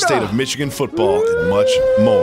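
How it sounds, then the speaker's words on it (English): A dog howls in a long, rising and wavering tone mixed in with someone talking, loud and close. "That's my dog."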